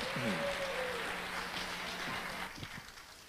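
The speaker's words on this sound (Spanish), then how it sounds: "Bueno, por los aplausos veo que les ha gustado." Audience applause fills a theater after a serenade performance, a steady broadband wash of clapping, with a brief vocal tone near the start and a voice starting to talk over the fading end.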